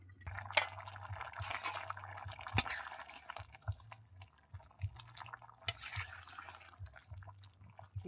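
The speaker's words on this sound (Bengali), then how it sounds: "ফুটে গিয়েছে, একটু নেড়ে দেব।" Lentil and Malabar spinach curry bubbling in a pot while being stirred, soft liquid slurps and drips with occasional sharp clinks of the spoon against the pot.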